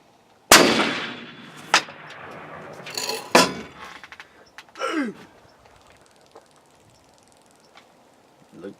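A Mossberg Patriot rifle in .300 Win. Mag. fires one loud, sharp shot at an outdoor range, then rings and echoes. Several fainter cracks and thuds follow, with brief voices in the background.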